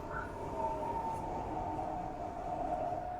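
A train runs steadily along the track in the game Minecraft Transit Railway, a continuous rumbling drone with a sustained whining tone, close and without talk.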